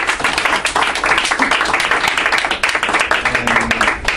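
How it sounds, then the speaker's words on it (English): A crowd gives a loud, dense round of applause for young people at a celebration, close, many hands clapping rapidly and continuously, with faint voices and cheering mixed underneath. "let's give these young people a round of applause"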